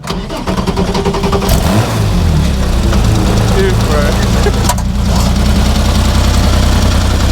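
A 1974 Porsche 911S engine revs loudly and settles into a rough, throbbing idle up close, with a brief shout heard over the engine.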